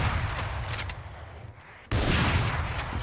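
Gunfire from the Operator sniper rifle in Valorant, sharp reports with a quiet gap midway before another loud burst, heard alone without speech.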